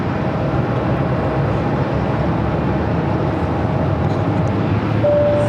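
An Amazon Air Boeing 767-300ER cargo jet, a 32-year-old conversion flying as Flight 3397 from Fort Worth, approaches Phoenix airport with a steady, loud broadband roar that holds evenly throughout, with no talking.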